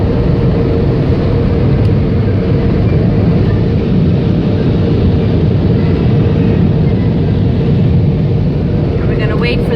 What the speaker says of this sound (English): And now we go through the dryer and we get dried. It's really loud.